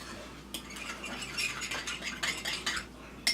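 Light clinks and scraping of a utensil mixing ingredients in a bowl, a loose Latin-style mix that can include minced jalapeno, in short irregular strokes, close and fairly quiet.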